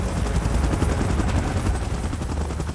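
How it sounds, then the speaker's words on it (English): Helicopter in the video game PUBG Mobile, a loud steady rotor roar with dense rapid chopping that fills the whole stretch without pause, heard close and alone. "Chopper in position."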